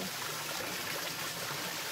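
Water flowing steadily in a stream in Batangas, a constant soft rushing and trickling wash that runs evenly throughout, with no voices.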